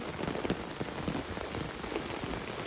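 The first monsoon rain falls steadily outdoors, a dense, even patter of drops hitting the ground at close range with no voices.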